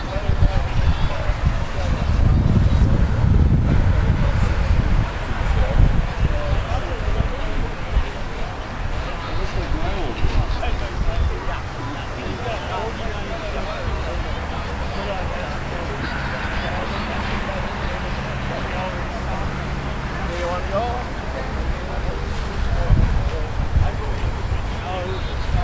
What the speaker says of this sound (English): Good old wind.